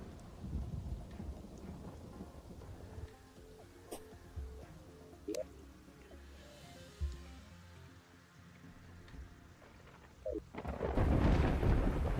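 Steady rain hisses through a video game thunderstorm, broken by sharp thunder cracks and low rolling rumbles, with a heavier downpour swelling at the end.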